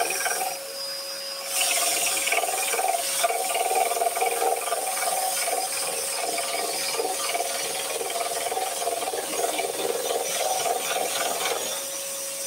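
A scroll saw cuts wood for a compound-cut candle, its blade chattering in a fast, steady mechanical buzz with a high whine, close and continuous after a quieter start.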